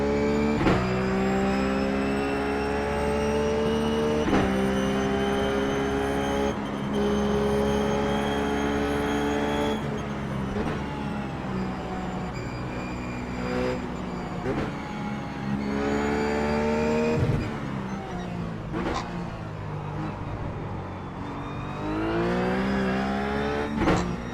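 A Ruf GT3 race car engine in the iRacing sim at Phillip Island drones loudly and steadily, its pitch rising with throttle and dipping at gear changes and lifts through corners, with no one speaking.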